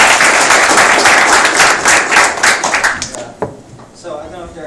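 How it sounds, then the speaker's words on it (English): An audience at a technology talk claps for Maíra: a loud burst of many hands that breaks into a few separate claps and fades out, followed by a short moment of voices. "Clap your hands to Maíra."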